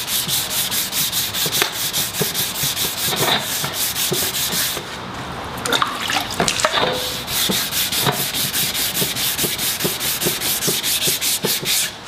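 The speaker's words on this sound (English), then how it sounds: "I'm gonna go over it a couple more times, water sanding in real time" A sanding block rubs back and forth over wet primer on a gas tank, steady rhythmic scrubbing strokes up close, with a short pause midway before the strokes resume.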